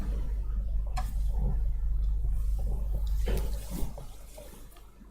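Circulating water flows around a grinder in a waste photovoltaic panel recycling plant, a rushing, splashing wash over a steady low machine hum, with a few brief clicks and a drop in level near the end.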